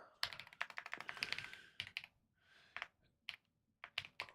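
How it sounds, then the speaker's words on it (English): Rapid clattering keystrokes on a computer keyboard during a game session, a dense burst of typing followed by scattered separate taps and short clusters, close and fairly quiet. "you can hear my keyboard a lot more again in the videos"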